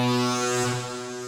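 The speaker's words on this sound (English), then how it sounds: "you heard the default patch, which sounded like this." Default patch of the SkannerXT synth plugin: a sustained, buzzy low tone rich in harmonics, sounding like a droning horn, held steady and loud before easing slightly toward the end, with no voice.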